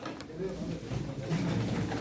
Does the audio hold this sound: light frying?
no